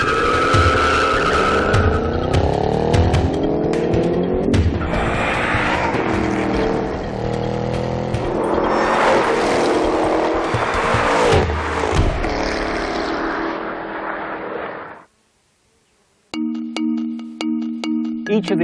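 A Ford Shelby GT500 and a Chevrolet Camaro ZL1 roar and rev hard as they launch and accelerate away, the noise swelling and shifting, then cutting out abruptly before a brief tonal beeping.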